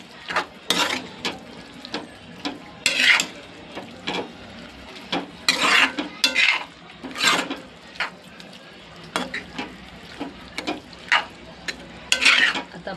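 A spoon stirs capsicum curry with curd in a pan, producing repeated bursts of wet scraping and gentle sizzle at an irregular rhythm, close and fairly loud, with quiet gaps between strokes.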